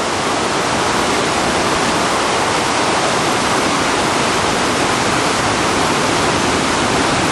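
Loud, constant rushing water of the Niagara River fills the whole clip, a dense roar with no breaks.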